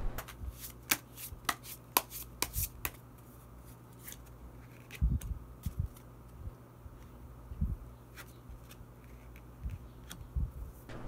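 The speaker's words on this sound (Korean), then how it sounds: "마지막으로 히든 카드 한 장 더 뽑아보도록 하겠습니다" Tarot cards drawn and handled from a deck during a reading: scattered crisp papery snaps and slides, close and fairly quiet, spaced irregularly with pauses between, alone without talk.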